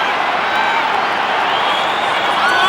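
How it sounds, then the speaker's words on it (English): A football crowd at the MCG stadium makes a loud, dense, continuous roar of massed voices that fills the space without letting up. "Very loud down here. The crowd."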